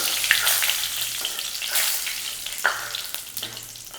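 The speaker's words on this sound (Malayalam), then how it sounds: "മഞ്ഞൾപ്പൊടിയും കൂടി ഇട്ടിട്ട് ഒന്ന് ഇളക്കണം" Turmeric powder gets stirred into hot oil in a pan for brinjal chutney, a steady close sizzle with soft scraping strokes of the spoon repeating every second or so, no voices.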